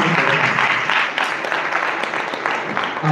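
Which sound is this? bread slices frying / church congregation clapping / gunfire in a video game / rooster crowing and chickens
church congregation clapping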